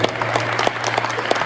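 A crowd at a Martin Luther King Day event in Greenwood, South Carolina claps along in rhythm, a short run of loud, evenly spaced group claps over a steady low hum.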